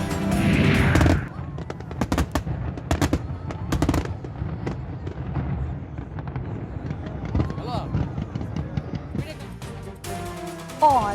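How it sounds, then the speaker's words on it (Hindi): Fireworks at a Bahrain National Day celebration, a series of sharp cracks and booms at irregular intervals, some distant, under a voice speaking throughout. "खूबसूरत आतिशबाजी ने देखने वालों के दिल मोह लिए।"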